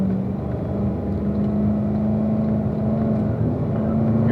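A Corvette accelerates hard in fifth gear on a race track, its engine producing a steady, loud, close droning roar throughout with no talk.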